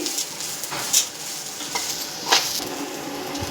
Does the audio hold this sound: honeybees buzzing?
no